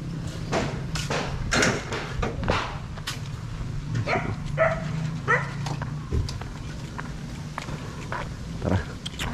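A three-month-old dog at a house construction site barks and yips repeatedly at close range, with sharp bursts spread through the clip and faint voices in the background.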